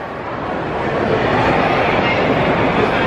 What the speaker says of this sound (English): That's the tram, guys. It takes you all the way around that way.